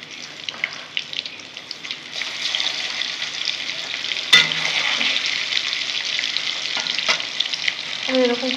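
Large fresh raikhar fish frying in a pan, a dense steady sizzle of hot oil that swells midway, broken by a few clinks and stirring scrapes, close and fairly loud.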